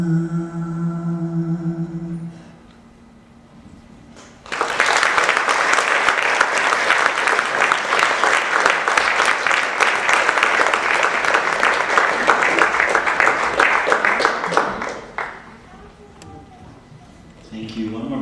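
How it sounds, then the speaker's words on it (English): Loud, sustained applause from a concert audience fills about ten seconds, following a quieter stretch of speech and fading back into talk at the end. "One more big round of applause."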